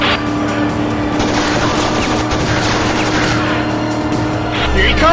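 A car in Road of the Dead roars toward the listener with loud engine noise and tyre squeal building over several seconds, and voices shout over it.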